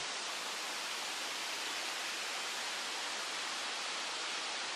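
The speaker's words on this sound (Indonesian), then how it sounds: "suara gemericik air yang menenangkan" Steady, broadband rushing water roars without change, like the Rutana waterfall in Burundi heard at a distance, fairly faint but continuous.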